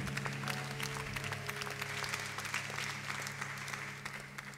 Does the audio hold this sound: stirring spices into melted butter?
no